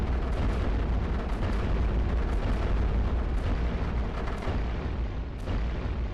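Cannons fire in the iBomber Defense strategy game, a dense, continuous barrage of booms and blasts rolling on without pause, loud and close, with no voices over it.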